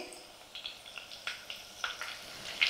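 Green chilies dropped into hot oil with garlic for a tempering, giving a faint, steady sizzle with small crackling pops scattered through, close by and without talk.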